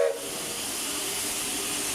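A loud, steady hiss of escaping steam from a nearby steam locomotive at a station on the Walt Disney World Railroad, continuous and broadband after a brief initial burst.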